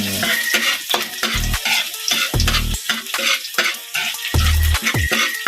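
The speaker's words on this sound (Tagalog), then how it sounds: "Gisa tayo ng bawang." Garlic sautéing in a pan while sisig na puso is cooked, loud sizzling broken by repeated clanks of a spatula stirring against the metal, with short rhythmic scraping bursts.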